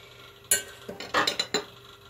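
A spoon clinks and scrapes against a pot while black dumplings are cooked, giving several sharp metallic knocks spaced over about two seconds.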